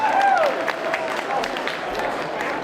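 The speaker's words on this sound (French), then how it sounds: "Applaudissements, s'il vous plaît." A crowd at a cosplay parade during a Japan-themed convention in 2023 claps and cheers briefly, the applause moderate and somewhat distant, with voices and a rising whistle-like call mixed in.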